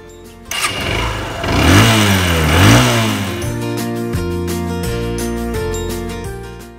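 A Honda Stunner 125cc single-cylinder air-cooled motorcycle starts up and rides off, with the engine note rising and falling through revs, then settling into a steady, loud, close throb with rhythmic pulses, and no talking.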